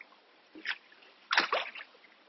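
Water sloshing inside a 20-liter AquaBLAST training bag, two soft splashy surges, a short one followed by a longer, stronger slosh, heard close with no talking.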